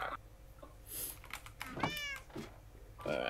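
A cat meowing in the Minecraft video game, a few short mews over quiet keyboard typing and faint game sounds.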